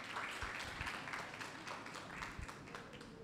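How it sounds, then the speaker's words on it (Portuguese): Applause from a women's church gathering for a pastor, a quiet, steady wash of clapping from a crowd, somewhat distant and continuous throughout. "E eu gostaria que vocês aplaudissem a pastora Andréia"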